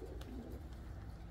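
White pigeons cooing softly in a large flock, low gentle coos repeating over a quiet outdoor ambience.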